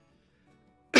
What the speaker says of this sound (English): Man, I got a cough.